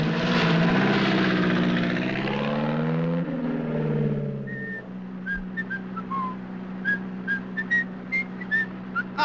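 Propeller aircraft engine from a 1956 film setting, a loud droning whine with a shifting pitch that drops away, followed by quieter intermittent high whistles and chirps.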